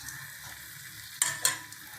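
Batter-coated bread frying in a pan, a steady sizzle throughout with two brief louder hisses as pieces go in, heard close with no talk.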